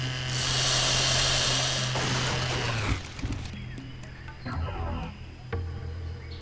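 Chainsaw cutting down trees in the Serious Sam HD: The Second Encounter video game: a loud, steady buzzing motor whine for about three seconds, then choppier, rougher grinding bursts as the saw works through wood, with no talking.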